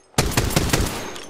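Apex Legends gunfire rattles in a quick burst of four or five loud, sharp shots spaced evenly after a brief quiet start, close and unaccompanied by speech.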